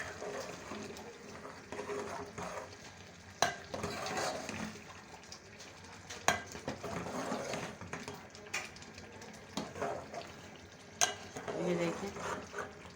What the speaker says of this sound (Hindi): ये देखें किस तरह इसकी भुनाई हो रही है।